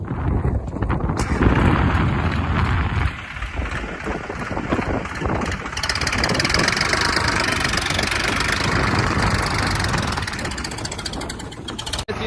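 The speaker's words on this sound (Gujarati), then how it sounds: "બે હાઇડ્રોલિક છે ને ડાઉન કરી અને તાકાત ચેક કરવાની કોશિશ કરશું કે ટ્રેક્ટર કેવું તાકાત કરે છે" A Massey Ferguson tractor engine runs in the open during a hydraulic lift power test, a steady loud rumbling drone with wind buffeting the microphone. A sharp knock comes early on, then the engine continues unchanged.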